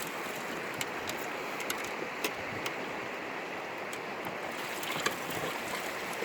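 Water rinses down a gold sluice box during Alaska prospecting, a steady, close rushing flow with a few faint clicks and splashes and no talk.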